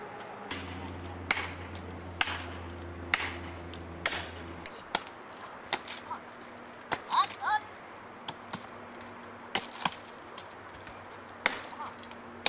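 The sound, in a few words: hammering shims into back of pine tree cut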